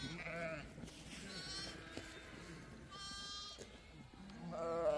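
Sheep bleating at a sheepfold near a forest, several animals calling in overlapping bursts across the clip, fairly close, with a louder bleat near the end over a steady outdoor background.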